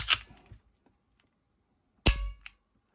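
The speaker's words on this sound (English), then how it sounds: "Pull the trigger." A dry trigger pull on a Ruger LCP Max pistol fitted with a Sigurd trigger: a sharp, close snap at the start, then a second crisp snap about two seconds later, with quiet between them.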